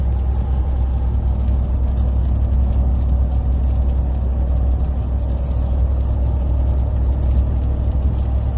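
A 2021 Ram TRX pickup cruises at highway speed, its deep engine rumble and road noise building steadily as it takes more throttle, with no voices over it.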